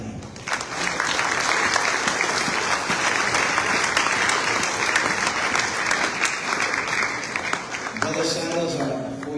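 Audience applause fills a church evening service, steady and sustained from start to near the end, loud and close, with a voice starting to speak as it fades.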